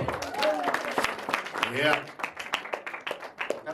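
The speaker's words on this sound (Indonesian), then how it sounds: "Tepuk tangan dulu dong." A seminar audience on disability law claps briefly in a hall, scattered hand claps mixed under a speaker's voice and a quick reply from the room, fairly close but modest in volume.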